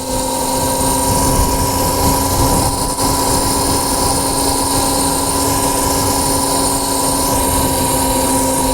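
A Voloci 48V electric bike climbs a hill, its motor giving off a steady, loud high-pitched whine with constant tonal hum and road noise throughout, nobody speaking.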